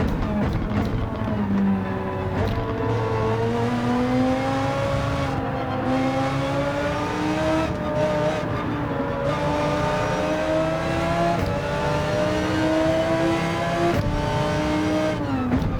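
A GT3 race car engine in Gran Turismo 7 revs high and continuously, climbing and dropping through gear changes, loud and sustained throughout.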